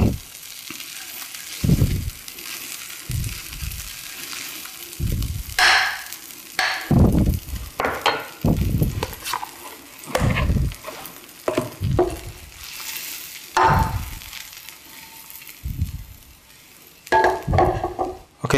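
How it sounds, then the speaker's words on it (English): About a tablespoon of vegan butter melts and sizzles in a hot pan for a Hawaiian teriyaki veggie burger, with bursts of stirring and scraping over a soft, steady fizz and no talking. "I'm gonna start by adding about a tablespoon of butter. Vegan butter."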